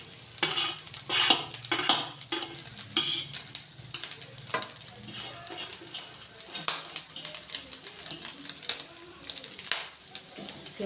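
Cooked rice being stirred in a pan over low heat, with repeated scraping and clinking of a spoon against the pan under a soft sizzle, continuing in irregular strokes.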